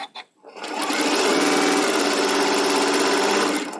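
A sewing machine piecing a quilt block runs in one steady, loud, continuous whir close by after a couple of brief clicks at the start, with no talk.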